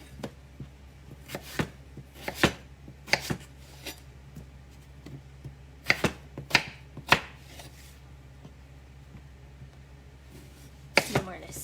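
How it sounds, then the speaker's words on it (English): A knife cuts potatoes into big wedges on a cutting board, giving sharp, uneven chops and taps, some in quick pairs, loud and close over a low background hum. "Just cutting them into nice big wedges."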